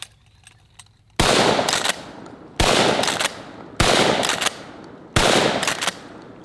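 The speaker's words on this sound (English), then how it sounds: "we're gonna use the 12 gauge trench gun" A 12 gauge trench gun shotgun firing birdshot upward at helium balloons outdoors: four loud, sharp blasts spaced about a second and a quarter apart, each with a short rolling echo.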